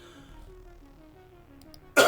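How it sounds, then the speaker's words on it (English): A single sharp cough bursts out near the end, close and loud, after a stretch of quiet low hum. "Sorry for the cough there."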